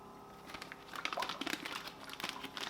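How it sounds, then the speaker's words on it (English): A plastic freezer bag being handled as blanched broccoli goes in, giving soft, irregular crinkling and rustling up close but quiet, with no talk. "and put it in a freezer bag"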